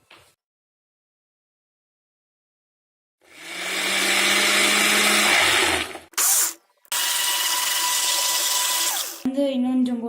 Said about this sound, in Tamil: இப்போ இதெல்லாம் மிக்சியில் போட்டுக்கலாம். இப்போ நம்ம அரைச்சிக்கலாம்.